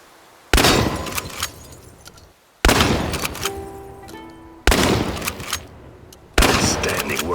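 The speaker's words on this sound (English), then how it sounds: "The shotgun has considerable spread, so you may as well leave your glasses at home." Four loud, abrupt shotgun blasts in the video game Chernobylite, each a sharp boom followed by a ringing, slowly fading tail, spaced roughly two seconds apart with a faint electronic whine between shots.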